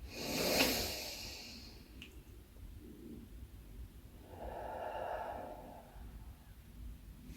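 Deep, slow breathing during a yoga exercise: a loud breath early on, then a softer, longer exhale a few seconds later, with quiet room tone between and no talking.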